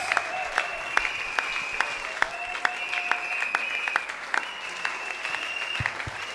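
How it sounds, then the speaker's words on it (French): Congregation clapping at a church thanksgiving service for an engagement, steady dense applause with sharp individual claps and a sustained tonal hum or organ note underneath, moderately loud throughout. "So let's clap for the Lord."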